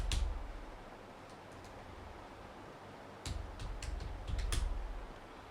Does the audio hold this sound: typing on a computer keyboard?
yes